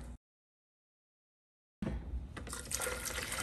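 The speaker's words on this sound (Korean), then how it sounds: "생수 2컵 1리터를 넣고요" Bottled water pours into a blender holding tofu and salt, a close gushing fill that starts after a brief gap of silence and grows fuller toward the end.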